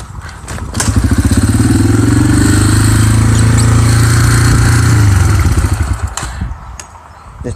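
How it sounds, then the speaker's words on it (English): A dirt bike engine is started with the clutch pulled in. It catches with a thump, runs loud and steady, revving close by for about five seconds, then cuts off. "of turning the dirt bike on"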